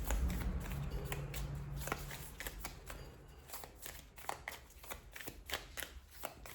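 Angel cards shuffled by hand, a steady run of soft papery flicks and slaps, close but quiet, over a low background hum with no speech.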